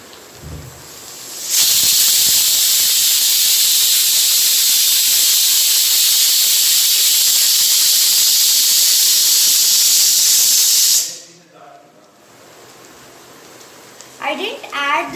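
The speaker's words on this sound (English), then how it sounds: "Now we are going to add first ginger garlic paste." Ginger garlic paste hits melting butter in a hot pan with a loud, sustained hiss lasting about ten seconds before cutting off abruptly, followed by a faint voice talking.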